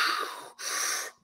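A voice imitates heavy, forceful breathing, two long harsh breaths separated by a short pause, close and alone with no other sound.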